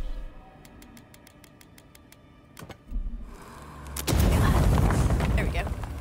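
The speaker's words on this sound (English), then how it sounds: "I used the wrong grenade here" A grenade explodes in the video game Avowed, a loud burst of broadband blast noise that swells midway and stays dense, after quieter clicking and thuds at the start.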